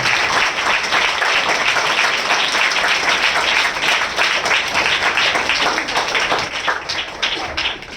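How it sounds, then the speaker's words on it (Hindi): A church congregation at a spiritual passion assembly applauds loudly and continuously, dense rapid hand claps filling the hall without a break for about eight seconds. "हम जोरदार ताली से उनका स्वागत करें।"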